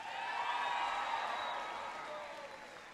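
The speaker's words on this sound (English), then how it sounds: "Give Jorge a big round of applause for his introduction" Applause from an audience at a school gathering where the U.S. President speaks, a steady wash of many hands clapping at moderate level that thins slightly toward the end.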